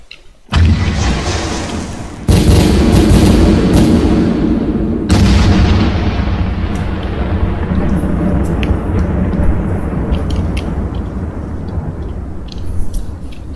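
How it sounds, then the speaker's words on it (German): Loud, booming firecracker explosions in the video game Pyroworks, with sharp bursts of blasts and crackling that fade into scattered pops and a lingering rumble. "also diese Böller, dass die dann quasi auch sogar hochgehen"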